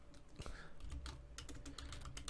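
Typing on a Windows computer keyboard: a quick run of close, crisp key clicks at an irregular pace, with no talking.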